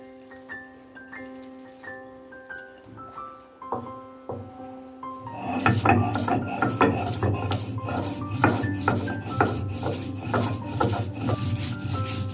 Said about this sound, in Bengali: খোসাগুলো এবার শিলপাটায় ভালোভাবে বেটে নেব।